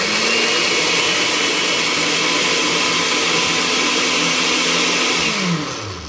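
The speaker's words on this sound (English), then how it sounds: "so I'm gonna blend it right now." A blender blending ginger and water runs loud and steady for several seconds, a dense whirring roar that winds down at the end.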